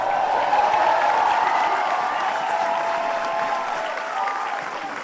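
A large crowd applauds steadily at an Army Ranger School graduation ceremony outdoors, a dense, sustained clatter of clapping that holds for several seconds and eases slightly toward the end.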